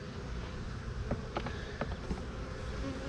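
Honeybees buzz around hives at a farm apiary, a steady close hum with a few individual bees zipping past near the listener.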